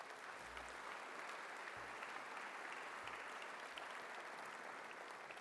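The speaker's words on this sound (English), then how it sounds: "And let's give them a round of applause too." Sustained audience applause at a 2015 forum gala dinner, dense continuous clapping filling the room at steady loudness, with faint low rumbles underneath and no talk over it.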